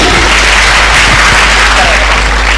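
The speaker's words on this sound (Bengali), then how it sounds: "এক্সেলেন্ট, হাততালি দিন।" A crowd claps loudly and continuously, a dense burst of applause close by for a couple of seconds.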